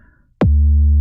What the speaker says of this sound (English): Without my plugins, it sounds like this. It's super clean, but not very fun.